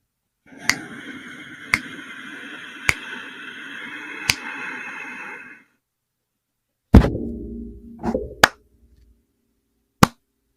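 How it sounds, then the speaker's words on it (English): Hand claps and finger clicks pace a box-breathing exercise: four sharp, evenly spaced claps over a steady hum, a pause, then a few close, loud clicks and taps, the last standing alone after silence. "I'll clap in, I'll click during holding, and then I'll clap out"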